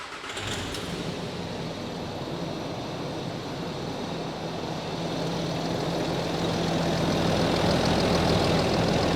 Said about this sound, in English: Get a whiff of this thing now when I fire it up.